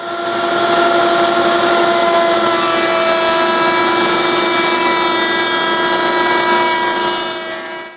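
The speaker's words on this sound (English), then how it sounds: "I'm going to run it against my router table." Router table cutting a bead profile along a wood piece fed past a featherboard, a loud close high-pitched steady whine with a tonal hum throughout, fading out at the end.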